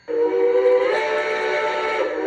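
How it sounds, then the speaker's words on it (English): A short steam whistle blast from a Zimo sound decoder fitted to a Bachmann two-truck Shay model locomotive, sounding as one loud, close, steady tone of about two seconds, alone without talk. "It's again another short whistle."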